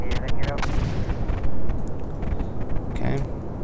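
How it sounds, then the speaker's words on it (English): Explosions in the space video game Kerbal Space Program, a burst of loud booming blasts and crackling debris followed by rumbling, briefly overlapping with talk. "Explosions!"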